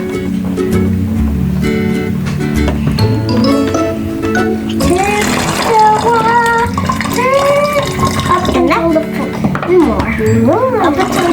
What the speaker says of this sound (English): And now we could add some water.